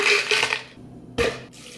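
Water splashes in short bursts as it is poured for a protein shake, with two close, sloshing pours separated by a brief quiet gap.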